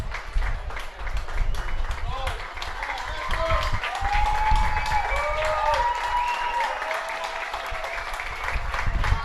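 Crowd applauding a player walking off gingerly near the 90-minute mark of a Villages SC vs Lakeland Tropics soccer match, steady broad clapping with stadium murmur and a commentator talking over it throughout.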